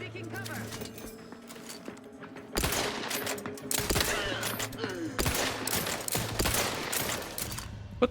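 Gunfire in The Outer Worlds 2, a burst of rapid shots and impacts that starts around a third of the way in and keeps going, loud and dense against game background sound.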